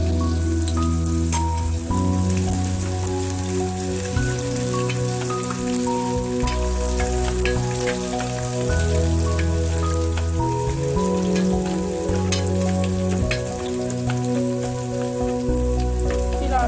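Black peppercorns and cumin seeds frying in hot oil in a pan while making pongal, a steady crackling sizzle running throughout beneath louder, sustained tonal background music.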